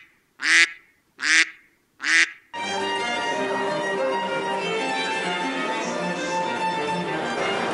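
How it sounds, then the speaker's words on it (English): Three loud, nasal quacks from ducks swimming on water sound in a row, close by, followed by a steady wash of busy background noise. "All the ducks are swimming in the water."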